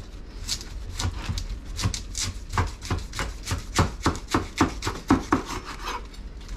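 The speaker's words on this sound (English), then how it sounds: "the pineapple. So I cut it right here. And now I'm gonna go this way, right down the center" A knife saws down through the center of a pineapple, making a steady run of rough, rasping cuts in a quick rhythm. The cuts are close and moderately loud, and no one talks.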